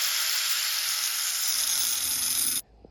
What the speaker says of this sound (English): I don't have much wheel left on the grinder, but I'll see what I can do, and maybe I can cut this bar off at least.